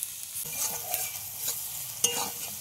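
Onions with ginger-garlic paste and salt sizzle softly in a pan as a spoon stirs them, with faint scraping strokes and small crackles over a steady low hiss.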